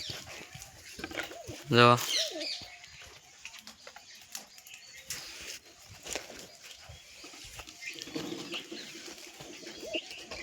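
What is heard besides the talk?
pigeons cooing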